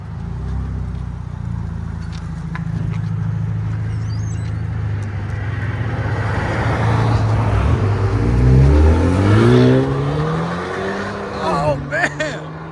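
2019 Kia Stinger with a 2.0L turbo four-cylinder and CARVEN R-Series exhaust, droning loudly and climbing in pitch as it accelerates, then easing off near the end, with a voice over parts of it.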